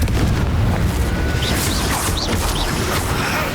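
In the video game Hogwarts Legacy, a Confringo blasting spell explodes with a loud, dense booming blast that fills the whole short moment with crackling bursts.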